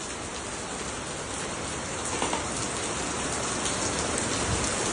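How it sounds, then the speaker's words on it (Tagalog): Heavy rain pours steadily on E. Rodriguez, a dense, loud, unbroken hiss of drops striking hard surfaces with no voices over it. "Lakas ng ulan."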